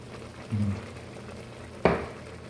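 Pancit canton noodles with vegetables and oyster sauce are stirred in a pan, a faint steady sizzle under one soft scrape and then a sharper clack of utensil against pan.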